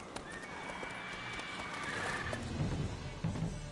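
Horse in The Witcher 3 video game, hooves clip-clopping faintly under a clear neigh, with game ambience behind it.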